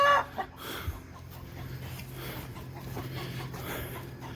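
Chickens cluck in a noisy, agitated flock, busy overlapping calls over a steady background hum, with a louder burst near the start.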